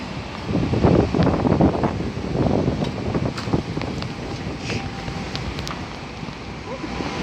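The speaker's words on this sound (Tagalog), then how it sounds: "Hangin." Strong gusty wind at Ocean Park roars and buffets the microphone in a low, rumbling rush that eases slightly toward the end.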